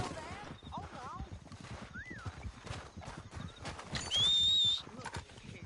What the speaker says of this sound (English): We need our horses.